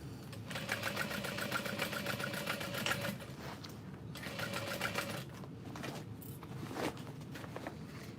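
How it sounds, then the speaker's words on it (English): A sewing machine backstitches over the side seams of a messenger bag, running in close bursts of rapid needle clatter with short pauses between passes. "I like to backstitch over the side seams"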